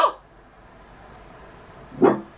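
A dog growls and gives a short bark at the start, then after a quiet pause lets out another single loud bark close by.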